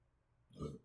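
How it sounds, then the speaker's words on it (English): A single short, low burp, soft and close, after a moment of quiet. "Healthy burp, by the way"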